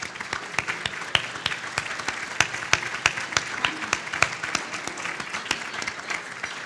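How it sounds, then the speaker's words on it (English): An audience claps steadily for several seconds, crisp individual hand claps standing out from a dense round of applause. "just stand for a round of applause"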